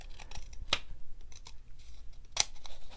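Two crisp snips of scissors cutting cardstock, spaced about a second and a half apart, close up, over a quiet background.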